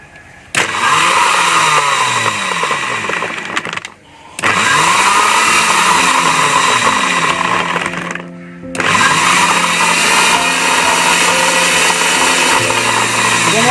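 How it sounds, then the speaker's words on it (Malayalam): A blender whirs loudly, blending dragon fruit with sugar and ice, in three long bursts separated by short pauses, with a steady high motor whine and grinding churn as the contents spin. "അപ്പോൾ ഇനി നമുക്ക് ജ്യൂസ് അടിക്കാം."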